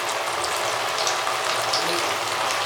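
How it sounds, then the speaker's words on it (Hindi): Chana dal frying in hot oil inside a strainer, a dense, even crackling sizzle that holds steady and close throughout. "और हम इसको हिला के फ्राई करेंगे।"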